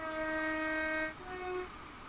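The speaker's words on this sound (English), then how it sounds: "Just sound the horn as we're approaching a station" A Class 166 diesel train's two-tone horn sounds in Train Sim World on the Reading to London line, a long steady blast that drops to a lower tone before cutting off, approaching a station.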